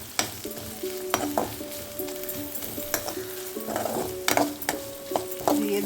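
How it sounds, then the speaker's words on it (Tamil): Dry anchovy fish sautéing in hot oil, a continuous close sizzle with regular scraping and clanking of a spatula stirring against the pan throughout. "இதை நல்லா வதக்கிடணும். எண்ணெயில் நல்லா வதக்கிட்டு"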